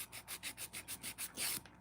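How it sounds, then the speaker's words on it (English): Rhythmic rasping strokes of a file smoothing the cuticle area of fingernails, about seven even back-and-forth passes followed by a longer final stroke, close and soft with no talking. "Get this cuticle smoothed out just a little bit."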